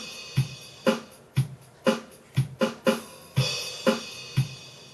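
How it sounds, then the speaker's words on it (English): Boss BR-600 drum machine playing its pop one intro pattern, a steady mechanical beat of evenly spaced kick and snare hits with crisp hi-hat on top, clean and fairly quiet. "Here we've got pop one intro."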